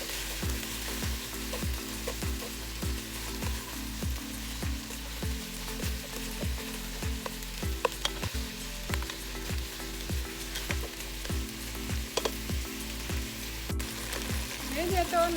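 Chicken adobo fries in a pan and is stirred, a bright steady sizzle over an even rhythmic ticking of roughly two knocks per second, close and continuous with no speech.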